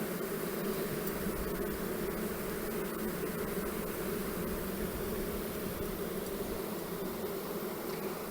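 Honeybees hum over a rearing frame pulled from a hive, a steady close drone that holds at an even level without pause.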